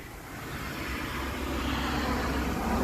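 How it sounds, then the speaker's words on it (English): Steady low roar of passing traffic on a busy road, a broad rumbling wash that swells slightly louder toward the end, with no voices. "I'm sorry about the traffic sounds. It just happens to be a busy road."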